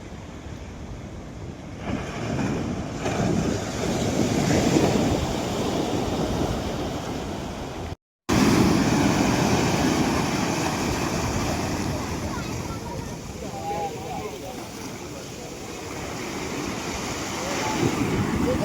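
Sea waves wash up the sandy beach at Porbandar and draw back, a continuous near surf roar mixed with wind buffeting the microphone, briefly cut by a dropout halfway through.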